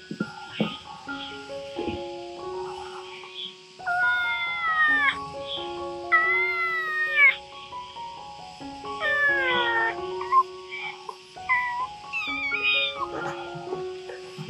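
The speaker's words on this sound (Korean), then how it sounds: "회색 고양이 두 마리 아주 예쁘죠?" Grey kittens abandoned on a grassy mountainside meowing repeatedly, several drawn-out, rising and falling cries close by, coming in irregular bursts separated by short pauses.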